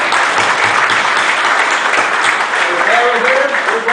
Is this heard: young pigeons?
no